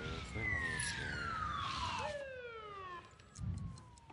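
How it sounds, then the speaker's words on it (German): Police car siren in a SimCity city, its wailing tone sweeping down and cycling loudly over about four seconds before cutting off, with traffic rumble and a brief voice near the end. "noch ein Polizeiauto"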